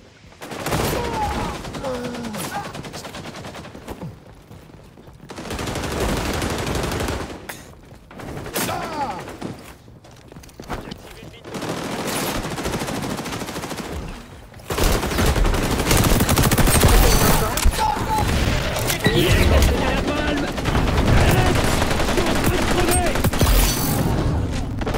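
MP5 submachine gun fire in the shooter game XDefiant, repeated bursts of automatic shots with booms, broken by brief pauses, while a player talks over parts of the action.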